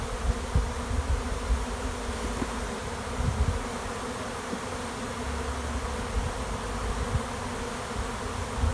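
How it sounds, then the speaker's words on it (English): Honey bees buzz steadily as they are shaken off a brood frame into a cell starter box, a dense close swarm hum with small bursts from frame handling, no talking. "Brood, I'm going to shake the bees off."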